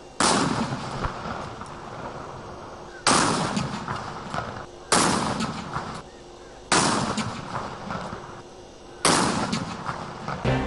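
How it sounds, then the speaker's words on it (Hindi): Cannons fire a 21-gun salute for Pakistan's national day, five heavy booms arriving at roughly two-second intervals, each one a loud sharp blast that rolls off into a long decaying echo. "कौमी दिहाड़े की शुरुआत मुल्क के मुख्तलिफ़ शहर में एकवीह तोपन की सलामी दई कई वही।"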